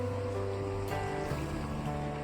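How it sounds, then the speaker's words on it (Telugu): Sea waves at Suryalanka beach, a steady moderate wash of surf with a soft swell of breaking water partway through, heard alone without talk. "చూడండి అలలు ఎలా వస్తున్నాయి."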